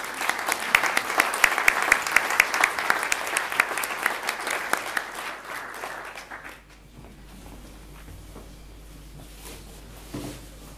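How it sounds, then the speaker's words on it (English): Audience applause for a live coding artist at an opening performance, a dense burst of clapping from a crowd that swells, holds for several seconds, then dies away into a quiet room hum. "Please give her a warm round of applause."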